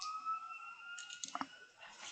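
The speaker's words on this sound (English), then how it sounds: "there's sirens going outside my house" A wailing siren sweeps faintly in the distance outside a house, steady and thin, with a few soft clicks and rustles nearby.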